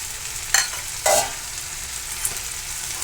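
Steady sizzling of ground roasted coconut paste frying in a pan with two short bursts of louder crackle as it is stirred, close by and without voices.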